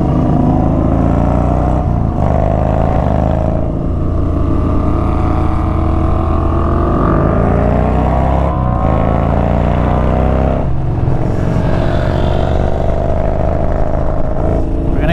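Motorcycles including a Yamaha Bolt, a Ducati and an MT10 riding near Rock Store in Malibu, with a loud, continuous engine drone that rises and falls through several revs and gear changes, close to the microphone with heavy wind rush.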